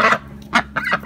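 Ducks being herded into their duck house give three short, nasal quacks spaced across a second, close and fairly loud.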